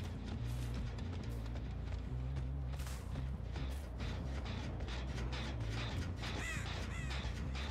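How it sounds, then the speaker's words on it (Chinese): Crows caw in the video game Dead by Daylight, with repeated harsh calls and flapping over a dense, rumbling game soundscape at a moderate level. "乌鸦飞回来了啊！"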